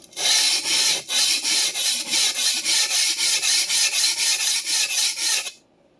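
Knife sharpening on a Clyde Cutlery chef knife: a steady run of about fifteen rhythmic rasping strokes of the blade across a sharpening surface, close and loud, ending abruptly into silence.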